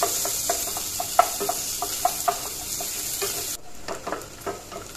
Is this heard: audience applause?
no